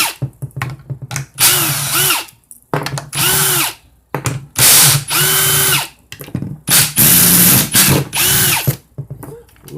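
A power tool spins out 10 mm bolts from an automatic transmission valve body plate, repeated short whirring bursts with ratcheting, separated by pauses and clinks of handling, loud and close.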